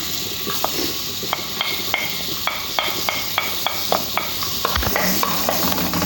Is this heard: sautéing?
yes